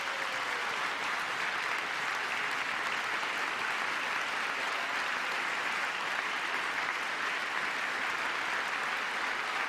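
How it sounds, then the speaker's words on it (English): Applause from an audience during a presidential address to Congress, a dense, even wash of clapping that holds steady throughout and sounds somewhat distant. "There's a clap."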